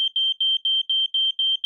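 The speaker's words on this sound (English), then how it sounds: "I could not find the source of the beeping. 5 minutes later, I did find the source of the beeping. Carbon monoxide detector." A household carbon monoxide detector beeps in a steady repeating pattern of short, high, piercing electronic chirps, loud and close with brief gaps between, and no voices.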